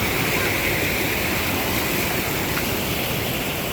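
A broad, steady rush of flowing water from the flooded Latag river in Nasugbu, even and unbroken throughout, heard on its own with no talk.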